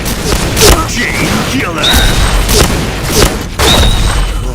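Shotgun blasts boom in a video game, several loud heavy bursts with sharp attacks spread across the stretch, mixed with game effects and someone talking over them.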